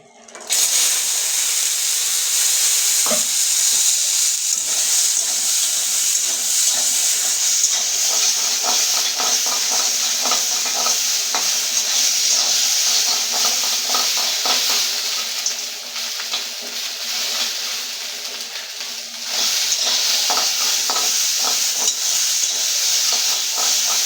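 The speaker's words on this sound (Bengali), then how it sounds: "তো এখন আমি দিয়ে দিচ্ছি মটর" Peas fry in hot oil in a kadai with a loud, steady sizzle and hiss that runs the whole time, close up, with faint clicks of stirring.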